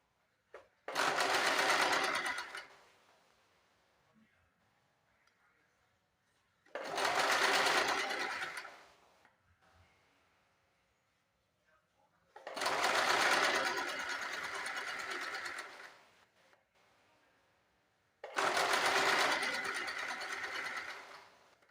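A sewing machine stitches straight seams in four separate loud bursts of a few seconds each, with short quiet pauses between runs.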